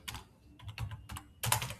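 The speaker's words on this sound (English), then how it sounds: "you can press Q on your keyboard" Typing on a computer keyboard: a handful of quiet, close key clicks tapped in an uneven rhythm, with no voices.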